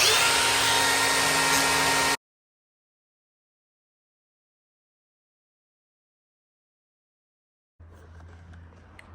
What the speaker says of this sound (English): I'm going to put a grinder to it and cut it off